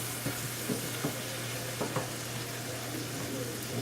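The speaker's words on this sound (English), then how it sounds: "This oil is heating up pretty quickly here. Let me stir these potatoes." Potatoes frying in hot oil and being stirred now and then, a steady close sizzle with several soft scraping stirs, for red potatoes cooked alongside lamb chops.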